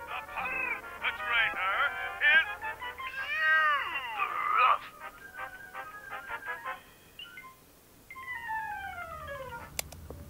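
A pet cat in Dark Dreams Don't Die meows repeatedly, long drawn-out cries and caterwauls, close and clear against a quiet background, followed by a rising electronic tone sequence.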